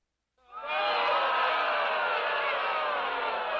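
A crowd at a Road Warriors wrestling tag team match swells from silence into a loud, sustained roar of voices and jeers that holds steady to the end.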